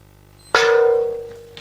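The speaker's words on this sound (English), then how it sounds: "Everybody's ready for the gong." One gong is struck on a television game show, a sharp metallic clang that rings out with a sustained tone and slowly fades over about a second, loud and alone.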